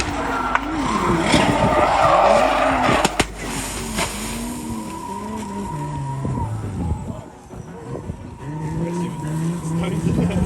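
A Nissan S15 drift car slides through an off-camber corner with loud, sustained tire squeal and skidding, the engine note rising and falling, while people talk over the noise.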